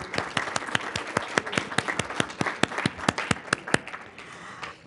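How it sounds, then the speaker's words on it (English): Audience at a school board candidates forum claps, a fairly sparse round where individual sharp claps stand out in a quick rhythm, then it thins and fades near the end. "Give each other a round of applause."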